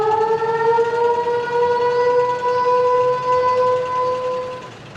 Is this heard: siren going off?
yes